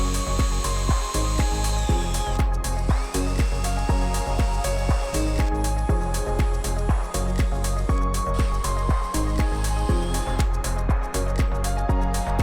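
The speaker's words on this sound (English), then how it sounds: "first we're gonna do a pilot hole with a small drill bit" A small drill bit bores a pilot hole into the front bumper of an Acura TL Type-S, making repeated short bursts of whirring and grinding with brief stops between them.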